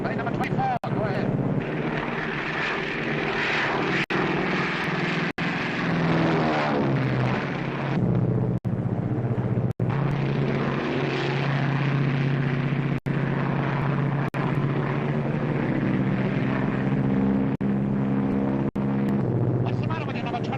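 Steady propeller airplane engine drone in flight, loud and continuous with a low hum throughout, while voices talk over it.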